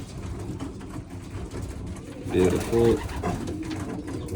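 Pet pigeons coo in a loft during feeding, and two soft, throaty coos stand out close by over a busy background. A voice speaks briefly.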